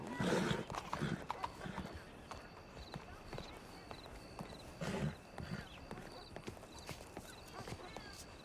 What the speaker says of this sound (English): I don't think that horse really likes me much.